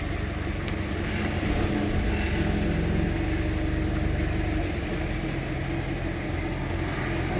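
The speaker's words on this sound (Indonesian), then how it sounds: "untuk melihat spool turbonya di RPM berapa ya" A Ford Ranger TDI diesel engine with a VGT turbo running close by, a loud, dense, continuous rumble that holds fairly steady and eases slightly toward the end, with no voices.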